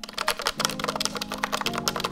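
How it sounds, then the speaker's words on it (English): Quick, steady clacking of V84 wireless mechanical keyboard keys, close and clear, with soft music playing in the background. "And this is the V84 wireless mechanical keyboard."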